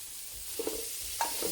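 Small chicken pieces sizzle in a pan of kothu parotta, a soft steady frying hiss with two brief scraping stirs, alone.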